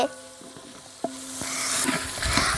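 A spoon stirs natukodi (country chicken) biryani in a pot, scraping and clinking against the metal in a few strokes while the contents sizzle and bubble, the sizzle swelling louder toward the end.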